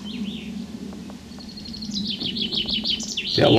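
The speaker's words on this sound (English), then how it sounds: "See the birds." Small birds sing outdoors near a loch on Scotland's West Highland Way, quick bright repeated chirping phrases growing livelier and closer, over a soft background hum, ending with a short louder rustle.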